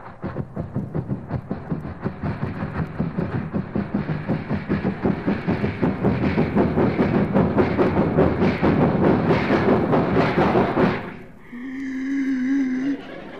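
A voice imitates a train pulling into a station: a steady rhythmic chugging that builds, then cuts off abruptly, followed by a short, high, whistling squeal.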